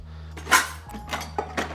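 An appropriately sized mixing bowl is set down on a kitchen counter while preparing pie crust, giving a few short knocks and clatters close by, with softer handling sounds in between.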